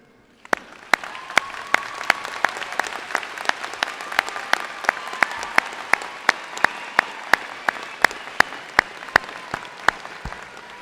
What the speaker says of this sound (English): graduates, will you please join me in a round of applause to all your family